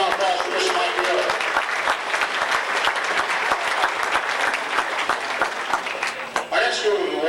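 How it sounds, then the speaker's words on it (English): A banquet crowd gives Mike Mueller a round of applause, steady dense clapping that holds for several seconds and then thins out near the end, with some voices faintly underneath. "how about a round of applause for Mr. Mike Mueller?"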